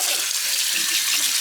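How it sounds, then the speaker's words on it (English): Tap water running steadily over pickled peppers being rinsed in a kitchen, a continuous close hissing stream with no speech. "So I'm going to start by rinsing out this solution."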